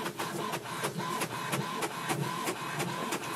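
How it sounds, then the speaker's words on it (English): An HP Tango wireless printer prints a page, giving a steady mechanical whir broken by rhythmic clicks and short pulses roughly every third of a second, close and continuous with no talking. "wait for the printer to do its job"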